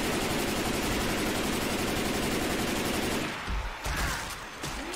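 Sustained rapid gunfire from the Left 4 Dead 2 video game in a dark sewer level, a dense continuous barrage that fills the first three seconds before breaking off into quieter scattered thuds.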